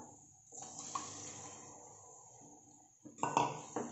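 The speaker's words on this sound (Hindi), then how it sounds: "इसमें डालेंगे अभी हम राजमा" Kidney beans (rajma) tumble into a pan of cooked masala paste with a soft wet slosh and a brief clatter against the metal, fairly quiet and close, with no talking.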